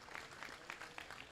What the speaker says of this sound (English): let's go ahead and give these people that run this thing a great big round of applause